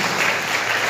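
A church congregation claps hands together in a dense, loud burst of continuous applause.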